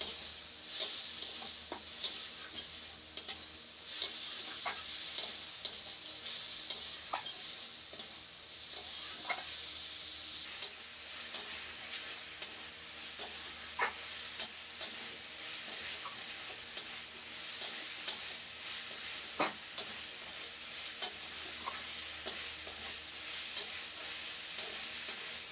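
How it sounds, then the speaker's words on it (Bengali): Spice paste with chili sizzles as it is sautéed in a pan while cooking taro greens, a continuous close hiss broken by occasional spoon taps and scrapes against the pan. "তো এই যে আমার মশলাটা কষানো হয়ে গেল"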